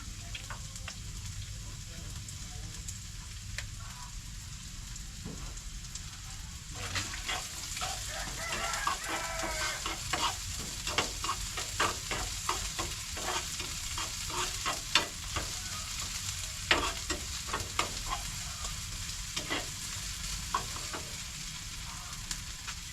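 Garlic and onion sizzle and crackle steadily in a hot pan, with irregular scraping and clatter from stirring growing busier midway; a rooster crows faintly in the distance.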